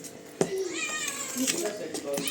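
A cat meows repeatedly in a home kitchen, with short rising and falling cries close to the microphone, while a person keeps talking over them.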